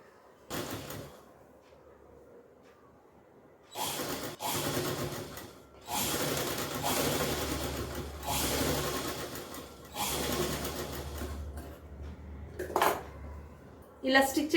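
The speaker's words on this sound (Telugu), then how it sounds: "ఈ లైనింగ్ మీద మనము ఒక స్టిచ్ వేసుకుందాం" Home sewing machine stitching along the lining of a small girl's frock, several bursts of rapid close whirring separated by quiet pauses while the cloth is repositioned, with faint handling clicks.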